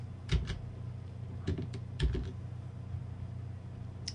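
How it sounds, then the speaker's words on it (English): Keys on a computer keyboard are tapped in a few short bursts, entering a percentage figure, with soft clicks over a steady low hum and quiet gaps between strokes. "So I'm just going to type in"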